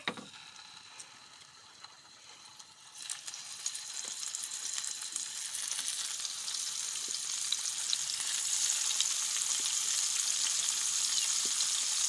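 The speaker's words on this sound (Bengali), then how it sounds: "মাছটা ভেজে নিব তেলটা গরম হয়ে গেছে" Pangas fish frying in hot oil, a steady close crackling sizzle that swells louder after a few seconds and keeps building, with no voices.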